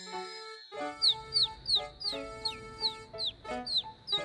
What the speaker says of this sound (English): A pretty yellow bird.